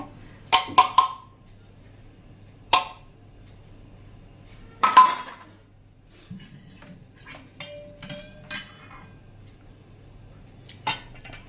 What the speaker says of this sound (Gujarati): આપણે મિક્સર જારનું જે મોટું જાર આવે છે ને એમાં જ આપણે આ 1 કપ ચણાનો લોટ નાખી દેશું અને એની સામે આપણે 1 કપ દહીં લેવાનું છે